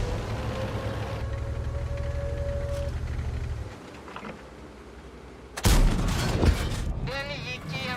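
Tank gunfire in a video game: a droning engine rumble drops away, then a single loud, close cannon blast hits, followed by ringing, crackling debris and rattling.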